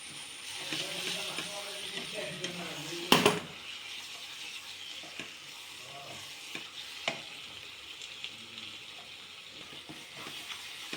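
Fried onions being stirred into a prawn biryani masala in a pan, with a spoon scraping steadily over a low sizzle and one sharp clatter near the start.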